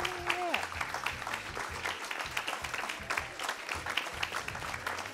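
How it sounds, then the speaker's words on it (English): Audience at a youth session of a landscape forum conference applauds steadily, a dense wash of clapping with faint crowd murmur and a brief voice at the start. "let's give those people a huge round of applause"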